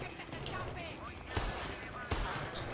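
Gunfire in Far Cry 6, two sharp shots standing out from a dense, noisy game soundscape, with a voice talking over the action.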